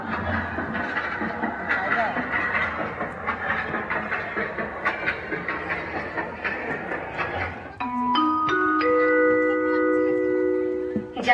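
The Birsingha–Howrah Vidyasagar Express stands at platform 1 of Ghatal Junction, station rumble and clatter under a continuous public-address announcement, then a sustained horn-like tone rising in the final seconds.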